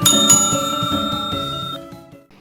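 Bright bicycle-style bell notification chime rings out alone, a quick double strike with a long shimmering metallic ring that fades over about two seconds.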